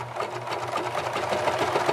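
A serger runs at a steady, busy whir as it stitches binding onto a quilt, close up and continuous with no talking.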